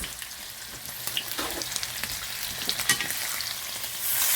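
Truffle fries bubbling in hot oil with a steady, close sizzle and scattered crackling pops, with no talking.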